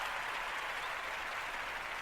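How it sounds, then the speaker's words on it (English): A crowd applauds a winning Super Bowl team, dense steady clapping with no gaps, loud and sustained from start to finish. "We got to give them some claps because they did it."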